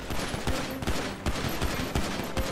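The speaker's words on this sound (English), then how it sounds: "Gunshot!" Rapid gunfire in the GTA 5 roleplay video game, a dense burst of repeated sharp shots close by, sounding like a fusillade or automatic fire over a few seconds.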